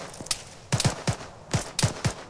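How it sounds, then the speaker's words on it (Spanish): Gunfire in a co-op military video game, sounding as a few quick single shots and then two tight bursts of three shots each, sharp and fairly close, with no talk over them. "Así que podéis dispararle."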